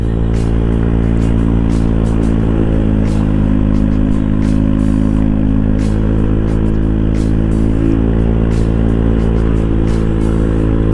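A motorcycle engine labours loudly and steadily as it climbs a steep incline on a Sunday morning ride, its low drone constant throughout with no talk over it.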